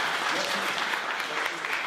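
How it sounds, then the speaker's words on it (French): Audience at a kente exhibition event applauds a musician, a brief wash of steady clapping with a faint voice underneath. "Oumaro, tous vos applaudissements."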